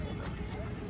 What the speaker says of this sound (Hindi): ये कितना लक्की घोड़ा है